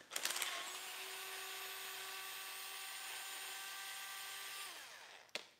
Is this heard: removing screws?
yes